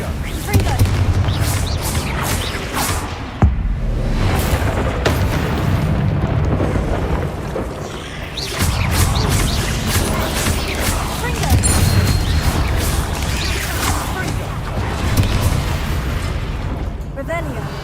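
Repeated fiery Confringo spell blasts go off in Hogwarts Legacy combat against a giant spider, loud bursts and booms recurring throughout amid busy game noise.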